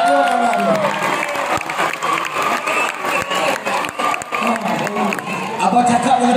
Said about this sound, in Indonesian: Tepuklah untuk pakcik ni, semua guys.